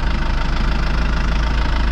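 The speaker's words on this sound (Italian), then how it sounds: "Ora si monta pian pianino perché il trattore è freddo" A cold tractor engine idles: a loud, steady, low throbbing rumble with a fast regular pulse, close by and constant throughout, with no one speaking.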